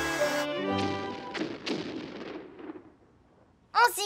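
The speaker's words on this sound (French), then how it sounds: "J'ai l'impression de sentir de la fumée chaque fois que les pirates tirent un coup de canon" Cannon shots from a pirate ship in a children's cartoon, several booming thumps and crashes over orchestral music, ending with a brief voice.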